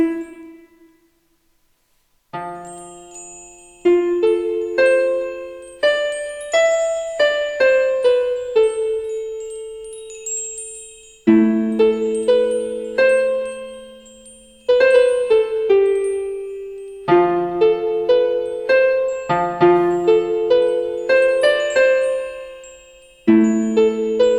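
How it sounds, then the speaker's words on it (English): Bright bell-like chimes from the Heat Up 2 VST synthesizer plugin ring out in a melodic sequence, each struck note decaying with a shimmering tail, played alone and fairly loud. "we can choose between different sounds like the chimes"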